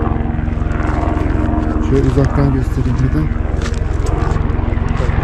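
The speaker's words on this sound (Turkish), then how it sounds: "Yukarıdan da helikopter geçiyor." A helicopter passes overhead above a kurgan burial mound in Kyrgyzstan, giving a steady, loud, pulsing rotor-and-engine drone that runs throughout while people talk close by.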